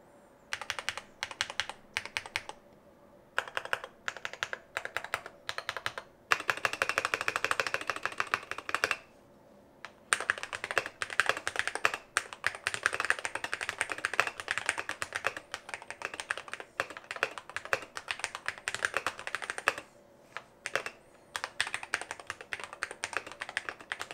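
Rapid typing on a DrunkDeer A75 keyboard with its spacebar dampened by pads beside the switch, giving close, crisp clacks in bursts with brief pauses and softer spacebar thumps.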